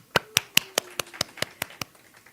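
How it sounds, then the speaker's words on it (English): A single person claps about ten times in a steady rhythm, sharp and close, with the claps thinning out toward the end in a quiet room. "give yourself a round of applause"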